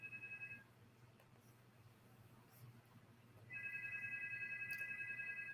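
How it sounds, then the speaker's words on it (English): A phone rings faintly in a quiet room: a short electronic tone, a gap of near silence, then the ringtone resumes and keeps repeating evenly to the end. "Sound like the phone ringing."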